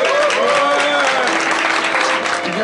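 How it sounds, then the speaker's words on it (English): Audience applause and crowd noise at a 2004 WC3L Season 4 Finals esports event as a player is introduced, dense steady clapping over the whole stretch with talk running underneath. "Give him a big round of applause."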